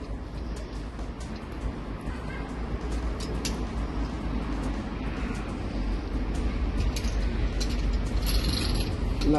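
Bicycle chain being fed onto the sprockets during a chain repair, giving a continuous soft mechanical rattle and ticking of links close by, with no talk.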